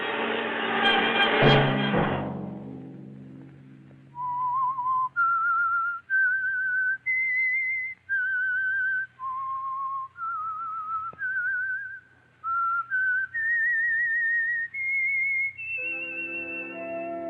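A single person whistles the slow, clear signature melody of the 1950 radio drama The Whistler, each note held and stepping up and down in pitch, after a brief burst of louder sound at the start.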